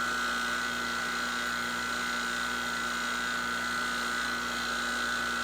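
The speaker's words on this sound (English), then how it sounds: "We're going through the silicone hose to the 12 CFM pump that's capable of going down to 3 microns." A 12 CFM vacuum pump rated down to 3 microns runs steadily, drawing a vacuum on a car's R1234yf/R134a refrigerant system through silicone hose. It makes a continuous, even mechanical drone with a strong tonal hum and no talking.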